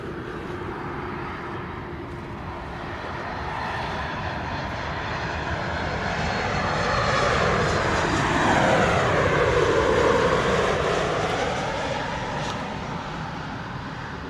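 A Copa Airlines airliner on final approach to runway 07 at Montego Bay, Jamaica, its engine roar swelling steadily as it nears and passes close by, then a slow fade with a sweeping tonal whine.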